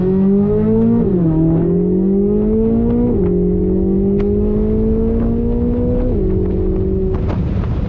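Corvette C8 Z06 accelerating hard from a launch-control start, a loud engine climbing steeply in pitch through several gear changes, each shift marked by a brief dip before the whine rises again, close and without talk.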